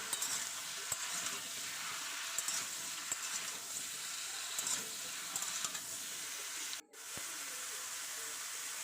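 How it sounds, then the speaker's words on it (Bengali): Ridge gourd frying in oil as it is stirred, a continuous loud sizzling hiss close up with occasional scraping taps of the spatula and a brief dropout near the end. "ঝিঙেটাকেও দিয়ে দিলাম দিয়ে আবার নাড়তে থাকবো কিছুক্ষণ পাঁচ সাত মিনিট মধ্যে নাড়তে থাকবো"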